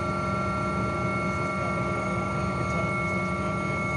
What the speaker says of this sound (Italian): Ecco il sopralluogo aereo dell'elicottero Drago 149 dei Vigili del Fuoco nella zona del Porto Gruarese.